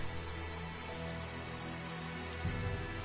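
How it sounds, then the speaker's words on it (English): Steady rain patters softly and continuously, a quiet even hiss with a low muffled thump near the end, in the video game Tales of Zestiria. "It's still raining, which is kind of ominous."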